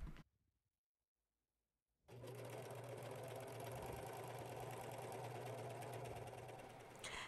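A sewing machine stitches a long gown seam from the sleeve edge downward. After about two seconds of near silence it starts up and runs in a steady, close, fast mechanical whir to the end, with no talking.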